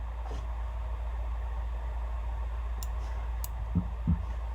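A computer mouse gives a couple of crisp, quick clicks over a low steady hum, close and fairly faint, with a few soft thumps near the end.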